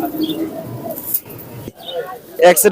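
Native pigeons coo softly in low, rounded calls at a pigeon market, alongside scattered bird chirps, with people talking nearby and a louder burst near the end.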